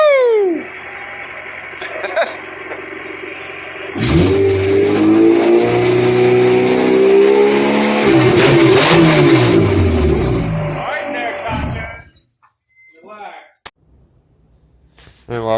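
Engine of a 1992 Honda Civic after an engine swap revving hard for several seconds, loud and close, then dropping away to near quiet with a few faint noises and voices.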